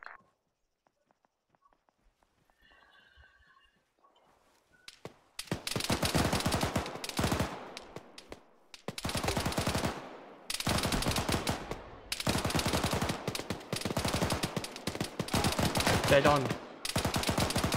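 Bursts of automatic gunfire in ArmA 3 rattle in long, loud volleys after a quiet opening, with brief pauses between strings of rapid shots and a short radio voice speaking near the start.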